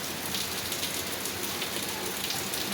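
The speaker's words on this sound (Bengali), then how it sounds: "বৃষ্টি আর ঝড়।" Rain pours steadily outside during a night storm, a dense, even hiss of drops striking surfaces with no voices.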